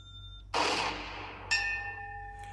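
A PhonePe app notification tone plays on a phone during a test: two bright, ringing chimes about a second apart, each with a sharp onset and a sustained tonal tail, with no talk over them.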